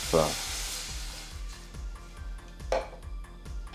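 Measured water poured into a hot pan bursts into a loud sizzle that gradually fades, with a second flare of hissing partway through and faint stirring clinks.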